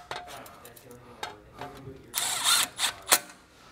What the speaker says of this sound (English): So next up, we're gonna reinstall our backing plate. It's held on by four 10 millimeter screws.